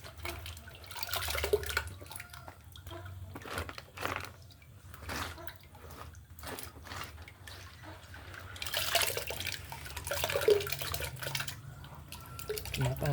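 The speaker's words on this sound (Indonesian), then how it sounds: "Kemudian kopinya kita tuang ke air." Coffee beans are poured into a bucket filled with water, producing irregular splashing and trickling bursts of liquid at low volume, with no voices.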